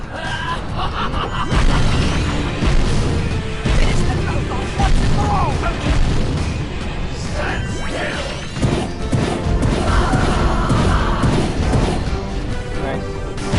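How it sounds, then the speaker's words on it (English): Ring bombs explode again and again in Jak and Daxter: The Precursor Legacy, a dense run of crashing, smashing blasts and thwacks that keeps going over busy game sound. "Alright, ring bombs galore."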